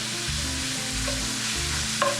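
Bacon sizzles and crackles steadily in a hot pan, a dense frying hiss with a few brief scraping stirs.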